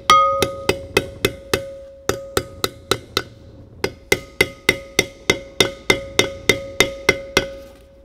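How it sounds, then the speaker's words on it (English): Repeated sharp metallic hammer taps in a steady rhythm with a brief pause midway, each strike ringing with a bright tone, close and fairly loud, as a seal is tapped into a trailer wheel hub. "as I rotate around the seal with the hammer"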